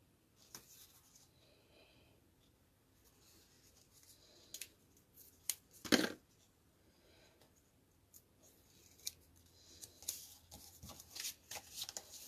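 Heavy tape being pulled, cut and pressed onto a popcorn wrap for mailing: quiet rustles, one sharp ripping tear and scattered crinkling taps, close and mostly soft, with no talk.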